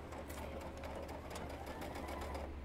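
Home sewing machine stitching a polyester-threaded seam on a plush horse stuffed toy, running steadily and close for the whole stretch with a fast, even mechanical whir.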